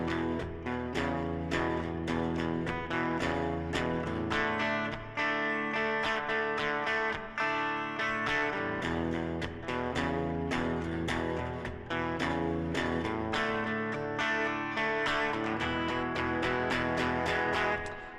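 Electric guitar plays the pre-chorus of a song, with strummed chords through effects and light distortion, steady and full for about eighteen seconds, close and alone.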